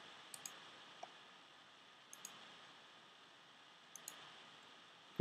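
Computer mouse clicks at a desk while using codeBeamer software: several faint, crisp single and double clicks spaced about a second apart over quiet room noise.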